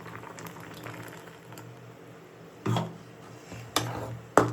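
Simple chicken gravy with a ground cashew paste simmering in a pot: soft, quiet continuous bubbling, broken by a few sharp clinks and clatters toward the end.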